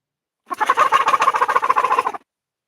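A wild turkey gobble, or a hunter's call imitating one, sounds as one rapid rattling burst of about two seconds. It is close and fairly loud, alone against silence, outdoors near a corn bait spot.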